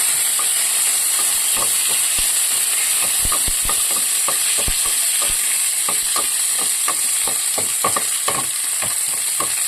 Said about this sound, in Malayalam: വെളുത്തുള്ളി നമുക്കൊന്ന് വഴറ്റി കൊടുക്കാം.